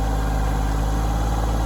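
Small 23 horsepower subcompact tractor engine idling close by, a steady, loud, pulsing diesel chug with no other sounds.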